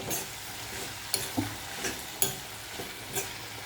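Ingredients for a mint roti chutney fry quietly in oil in a 60-year-old black iron pan, with soft sizzling and a few light stirring scrapes and clinks.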